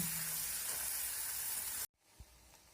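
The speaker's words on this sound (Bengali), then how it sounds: "ব্যাটারটা দেওয়ার পর আমি এই হাতার নিচের দিকটা দিয়ে এইভাবে চাড়িয়ে একটু বড় করে নেব।" Pea paratha batter sizzles in oil as it is spread with a ladle, giving a steady bright hiss that cuts off abruptly, followed by a faint quiet tail with one small knock.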